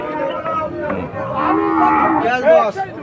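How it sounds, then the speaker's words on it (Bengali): Cattle at a crowded livestock market in Khulna, where cows are butting each other, low moos and bellows rising repeatedly over a continuous noisy crowd, loud and close. "এই দেখেন গুতাগুতি লাগাইছে গরুতে"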